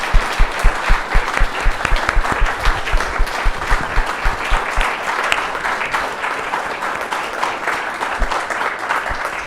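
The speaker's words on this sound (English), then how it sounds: "Let's give our authors a round of applause." An audience at a book prize event applauds the authors, with sustained clapping from a room full of people that is strongest at first and then gradually thins and fades.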